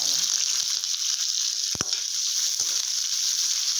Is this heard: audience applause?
no